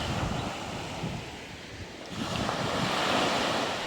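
Ocean waves wash steadily onto a beach at Port Dickson, Malaysia, a continuous roar of surf with wind rushing over the microphone, swelling louder toward the end.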